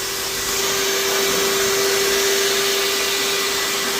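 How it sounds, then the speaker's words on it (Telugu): A hair dryer blows continuously and loudly close by, drying freshly washed hair at a salon with a steady airy roar and a constant whining tone. "ఇప్పుడు నీట్గా తలకాయ తుడిచి హెయిర్ డ్రై చేస్తున్నారు"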